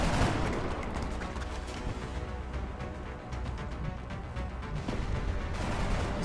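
Suppressive gunfire in the strategy game Long War pours out as a dense, sustained rattle of rapid shots, loud and steady for several seconds with no talking.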